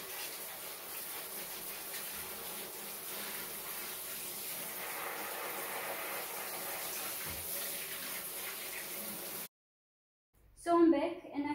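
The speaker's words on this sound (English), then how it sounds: "So let me remove this soil, wash the roots, and come back to see what's left" Running water from a tap washes soil off the roots of a rotting money tree plant, a steady soft splashing stream for several seconds that cuts off abruptly, followed by a brief faint sound.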